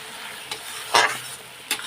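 A spice masala is stirred and sautéed in a pan. A few separate scraping stirs sound against a soft, steady sizzle, with one louder stir near the middle.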